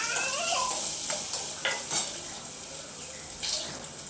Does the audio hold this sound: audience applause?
no